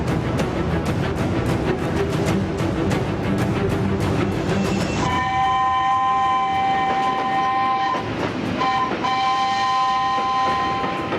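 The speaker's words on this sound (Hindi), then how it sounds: "शब्बीर ने देखा कि ट्रेन आहिस्ता आहिस्ता कराची स्टेशन पर रुकने ही वाली थी।" A train arriving at a station as a sound effect, with loud rumbling wheels on the rails that give way to a sustained horn blast, which pauses briefly and then sounds again, with no talking.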